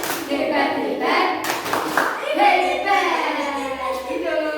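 A primary school class in Indonesia claps and chants a rhythmic praise cheer together, children's voices mixing with quick hand claps, followed by a teacher talking.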